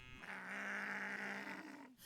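A single cow mooing in a drawn-out, fairly faint bellow lasting under two seconds, out in open country near a minefield, alone without talk.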